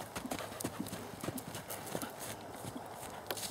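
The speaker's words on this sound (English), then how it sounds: "He loves to be free and canter around by himself." A horse canters loose on grass, its hooves clip-clopping in a quick, uneven rhythm, with faint steady background noise and no talk.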